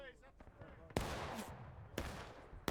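Sharp musket volleys crack out in the Civil War game War of Rights, three loud separated blasts roughly a second apart, each decaying with a rumbling tail, over a busy background with voices heard faintly at the start.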